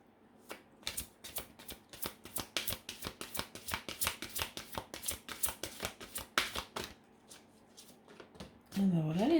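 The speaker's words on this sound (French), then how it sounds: "Allez, je vais en piocher une, ça ira plus vite." Oracle cards shuffled by hand: a long run of quick, crisp riffling flutters, fairly close and steady, ending with a short spoken phrase.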